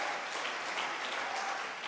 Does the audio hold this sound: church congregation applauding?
yes